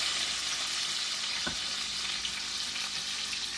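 Peeled, boiled potatoes fry in bacon grease, a steady close hiss of sizzling fat with one soft stirring knock partway through.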